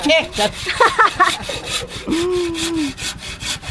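Rhythmic back-and-forth strokes of a handsaw cutting through wood, close and steady, with a short tonal squeal partway through.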